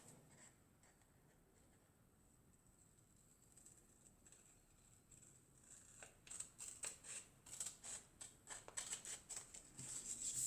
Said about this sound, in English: So we can go now and cut it